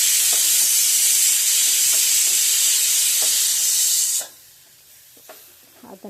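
A pressure cooker vents a steady, loud hiss of steam for about four seconds, then cuts off abruptly, leaving faint kitchen clatter and a few soft knocks.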